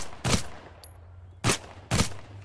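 Three separate UMP submachine gun shots in the shooter Total Conflict: Resistance, sharp and loud, the first alone and the last two closer together, with a quiet pause between.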